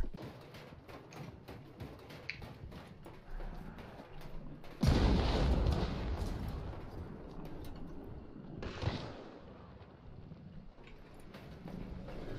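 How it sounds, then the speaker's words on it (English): A gun fires in Hunt: Showdown: one heavy booming shot rolls out and decays over a couple of seconds, then a softer second report follows, amid scattered clicks and rustles, with no talk. "Wait, what is that gun shooting?"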